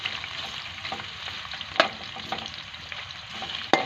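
Finely chopped onion frying in hot oil for a village-style peas pulao, a steady close sizzle broken by a few sharp spoon clinks against the pot.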